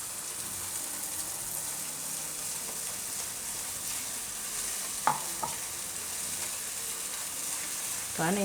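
White gravy for gunda shaak cooks in oil in a pan, giving a steady close sizzle and bubbling with a few light clinks from stirring.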